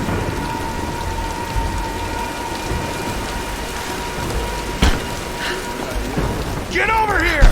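A heavy storm inside the Tomb Raider game, with steady, dense rain hissing up close and a sharp crack of thunder partway through, followed by louder rumbling near the end.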